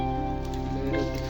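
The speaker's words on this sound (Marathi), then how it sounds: "पाऊस झाला चालू" Rain falls on a soybean field in the morning as a steady, even hiss over a constant low droning hum that carries through the whole stretch.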